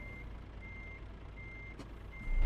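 A truck backing up in Euro Truck Simulator gives a steady series of four high, evenly spaced reversing beeps over a low engine rumble that swells slightly at the end.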